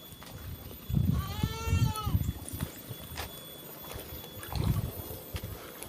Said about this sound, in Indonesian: Tenang kambing ini.